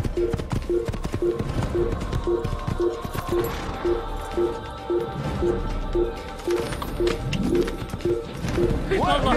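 Horse hooves clip-clop in a steady, even rhythm in an Assassin's Creed game, moderately close, running under game chatter and background ambience.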